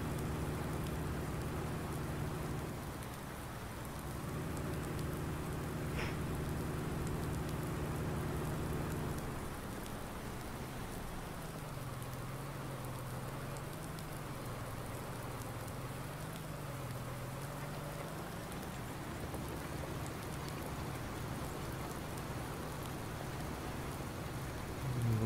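Steady rain falls in the Farming Simulator 19 video game, a constant wash of patter alongside a low engine-like hum that shifts partway through.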